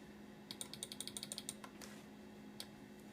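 Keys on a vintage Apple Macintosh keyboard are tapped in a quick burst of about a dozen crisp, close clicks, followed by a pause and one last isolated keystroke, over a quiet electrical hum.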